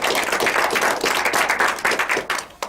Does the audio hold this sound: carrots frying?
no